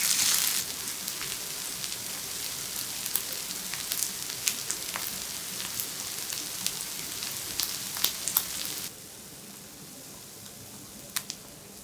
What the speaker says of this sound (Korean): 뒤집어서 반대쪽도 익혀주세요.